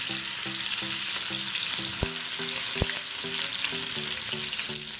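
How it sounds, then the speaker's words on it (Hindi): Chicken leg pieces fry in a pan with a continuous close sizzle and crackle, while a faint rhythmic hum pulses steadily underneath and two sharp clicks break through. "चिकन होने तक ऐसे फ्राई करेंगे।"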